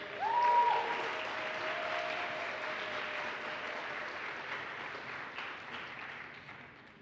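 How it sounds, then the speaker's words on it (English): Conference audience applauding a speaker, a sustained even wash of many hands clapping that fades slowly toward the end, moderately distant, with a brief voice at the start. "A round of applause for Marin again."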